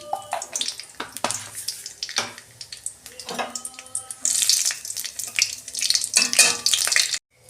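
Dried red chilli and nigella seeds tempering in hot oil crackle and sputter loudly and close, with irregular pops building into a dense, hissing sizzle before it suddenly cuts off.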